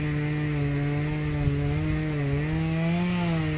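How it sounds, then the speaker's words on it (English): A saw drones steadily through a big chunk of wood, its strained motor holding a continuous, close, loud whine for the whole stretch with slight dips in pitch and no talk. "he's trying to cut it, but I don't think our saw can handle that big chunk"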